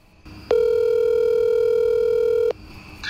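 Steady telephone dial tone on a radio phone-in line, a single loud continuous tone lasting about two seconds, starting and stopping abruptly over faint background.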